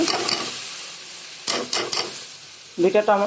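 Dal sautéed and stirred in a pan, heard as bursts of scraping and sizzling strokes separated by quieter gaps, with a voice speaking briefly near the end.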